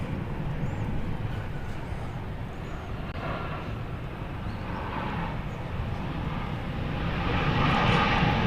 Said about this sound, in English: We've got a simultaneous landing and takeoff here.